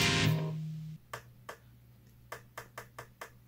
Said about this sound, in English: So these are going to be my room reverbs.